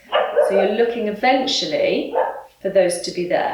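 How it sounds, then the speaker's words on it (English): A pet dog barks at home in short bursts beneath a yoga instructor's steady speech during a live classroom yoga session. "That's my dog barking, don't worry about that."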